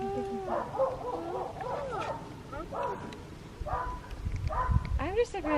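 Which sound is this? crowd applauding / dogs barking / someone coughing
dogs barking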